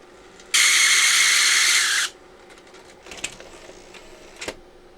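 A Sony BVW65P Betacam SP player runs its tape eject mechanism: a loud, steady high whirring buzz for about a second and a half, then quieter mechanical clicks and a couple of sharp clunks as the cassette is released.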